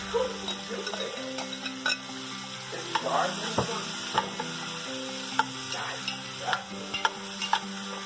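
Vegetables hitting a hot pot over medium heat for a cioppino, giving a soft steady sizzle under scattered sharp clinks and scrapes of stirring, with a low hum running throughout.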